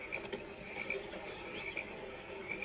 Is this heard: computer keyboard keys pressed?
no